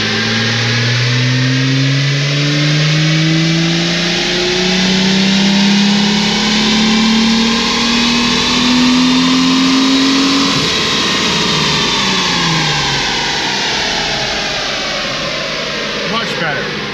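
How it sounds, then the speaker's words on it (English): A Procharged 2023 Jeep Wrangler engine winds up through a long rising pull for about ten seconds, its pitch climbing steadily before the revs drop back, loud and close throughout. "I'm just gonna make another pull. Rev it a little higher."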